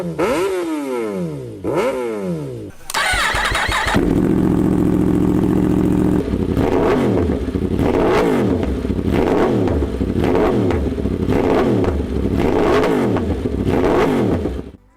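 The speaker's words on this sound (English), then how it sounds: "let's have a quick listen to some full racing exhausts on them too" Kawasaki ZX-10R and Yamaha R1 superbikes fitted with full racing exhausts rev hard in repeated sharp blips, loud and close, with a sustained high-pitched roar in the middle and rising, falling rev sweeps throughout.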